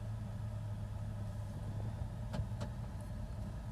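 A pickup truck with a transmission fault idles steadily with a low engine drone, heard from inside the cab as it is shifted between reverse and drive, with a couple of faint clicks partway through.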